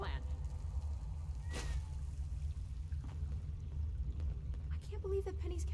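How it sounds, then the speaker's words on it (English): A cat meows a few times inside the video game Fallout 76. The meows are faint over a steady low rumble, with brief clatter near the end. "I can't believe that Penny's cat isn't robotic"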